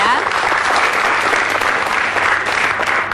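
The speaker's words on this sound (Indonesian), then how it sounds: "Tepuk tangan dulu dong ya." Studio audience applause on an entrepreneurship talk show, loud, dense and steady clapping filling the whole stretch, with a hint of voices underneath.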